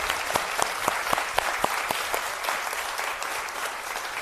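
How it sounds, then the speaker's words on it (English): An audience claps for Uncle Jim Everett at a conversation event. Several distinct early claps swell into steady, moderately loud applause that holds to the end. "Uncle Jim Everett, please give him a round of applause."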